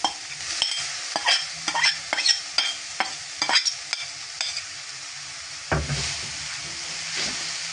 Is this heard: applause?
no